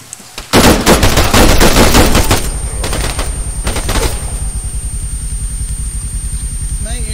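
Rapid automatic gunfire in Arma 3 rattles loud and close in dense bursts, then gives way to scattered shots and a low idling engine rumble.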